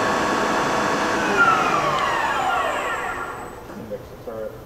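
An 18-inch by 40-inch Fryer CNC/manual combination lathe with a 4-position indexable turret, heard as a loud, steady mechanical whir and hum with a falling whine, fading near the end into a couple of small clunks.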